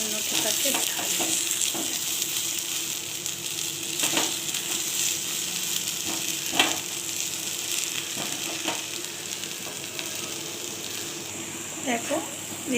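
Eggplant and red amaranth greens with lentil dumplings frying in a wok give a continuous soft sizzle, with intermittent scraping stir strokes close by and someone talking over it.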